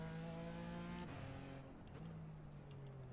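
A BMW M4 GT4 race car in the iRacing simulator holds its engine on the rev limiter in a short first gear, a loud, steady, buzzing drone with harmonics that dips and climbs again as it pulls away, close and continuous throughout.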